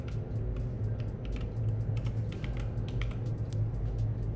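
Steady, close typing on a computer keyboard, with quick irregular key clicks that continue throughout under a low background hum.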